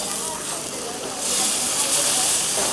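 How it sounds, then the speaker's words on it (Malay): Thick coconut milk cooking in a pan over low heat, with oil separating out into yellowish residue. A steady, dense hiss and sizzle fills the clip and grows brighter partway through, with a voice speaking over it. "dua cawan santan pekat dimasak menggunakan api perlahan sehingga terbentuknya hempas minyak yang berwarna kekuningan"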